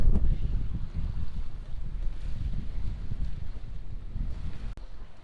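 Steady wind buffets the microphone aboard a sailboat under sail in the Maldives, a continuous low rumble with faint water movement and no talking.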